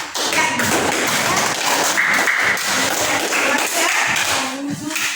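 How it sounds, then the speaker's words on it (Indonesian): A classroom group gets applause after presenting a discussion, dense fast clapping from many hands that holds steady throughout, close and fairly loud. "berikan tepuk tangan untuk kelompok merah"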